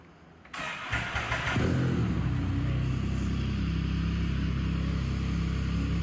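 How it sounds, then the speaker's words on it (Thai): A Can-Am Spyder F3 Limited three-wheeler's Rotax 1330cc inline three-cylinder engine cranks and catches, then revs up briefly before settling into a steady, loud idle close by, with no talking. "เดี๋ยวสตาร์ทให้ฟังเสียงเครื่องยนต์ดีกว่า"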